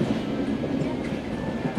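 Tirumala Express running on rails between Rajahmundry and Anakapalli: a steady rumbling roll with rhythmic clickety-clack of wheels, heard from on board and moderately loud.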